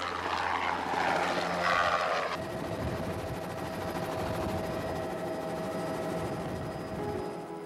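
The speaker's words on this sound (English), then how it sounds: "Flat rock allows everyone to board the chopper easily and fly inland" A Jet Ranger helicopter's steady rotor and engine drone runs throughout, loud and continuous, with a brief burst of higher whine early on before settling into an even hum.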